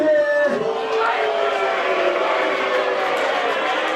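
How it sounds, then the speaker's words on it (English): Large wrestling crowd at a live pro wrestling show in Reseda, California, booing loudly as a sustained wall of voices, with someone shouting over it at the start. "People now booing the concept of time."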